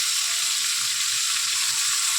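Pointed gourd (parwal) pieces sizzling steadily in a hot pan, a continuous bright hiss with faint clicks underneath, alone and without speech.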